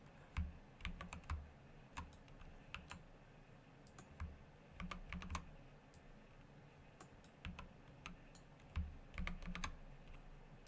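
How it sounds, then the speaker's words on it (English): Soft, rapid keyboard typing with clicky keystrokes arriving in bursts and pauses, fairly quiet and close, with no talking. "you're going to hear a lot of clicky clacks on my keyboard"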